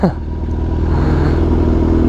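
A Kawasaki Ninja H2 motorcycle rolls along slowly at an exotic car meet, its engine giving a steady, loud low rumble close by with no revving or rise in pitch.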